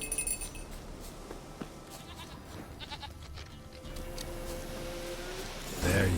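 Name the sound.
goat bleating in the video game The Witcher 3: Wild Hunt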